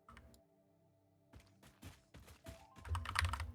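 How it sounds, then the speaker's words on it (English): Computer keyboard keys clatter in short bursts of close, crisp clicks, sparse at first, then a denser flurry of typing toward the end, with no voices. "Keyboard is louder than the game audio."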